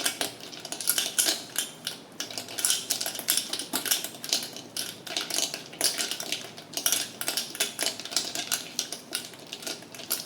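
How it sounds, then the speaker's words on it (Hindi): Ghee is beaten with a spoon in a bowl until creamy, giving rapid rhythmic scraping and clicking strokes that repeat steadily and close up throughout, with no speech. "ऐसे मिक्स कर लेते हैं और ये क्रीम के फॉर्म में आ जाए, इस तरह से हमें मिक्स करना है।"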